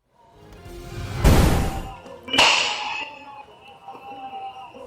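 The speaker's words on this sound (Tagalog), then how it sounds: "Rinig ang putok ng baril sa CCTV footage na yan" Two sharp gunshots ring out about a second apart, captured on CCTV in San Carlos, Pangasinan, each a sudden loud burst with a short echoing tail, picked up at a distance.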